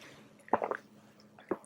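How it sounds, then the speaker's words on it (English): Two quick, wet sips of water taken close to the mic, about a second apart, with a soft swallowing squish after the first. The room is otherwise quiet and nobody speaks. "I'm going to have a sip of water."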